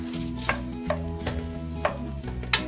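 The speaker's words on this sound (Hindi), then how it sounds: "प्याज को उतनी देर तक फ्राई करेंगे जितनी देर तक जो है ये हाफ ब्राउन ना हो जाए" Onions frying in a pan with a steady soft sizzle over a low musical bed, punctuated by a few brief spoon scrapes and taps at irregular moments; no one speaks.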